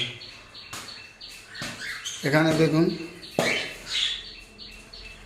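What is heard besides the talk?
pet conure parrots chirping in cages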